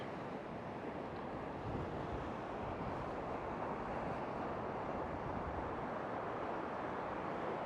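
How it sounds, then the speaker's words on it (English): A howling south wind roars across a fishing beach, buffeting the microphone in a dense, unbroken rush mixed with the wash of surf. "Man, that wind is strong."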